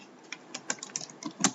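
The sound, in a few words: typing the string IoT world on a computer keyboard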